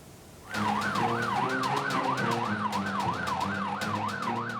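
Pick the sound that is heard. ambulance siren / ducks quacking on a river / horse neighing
ambulance siren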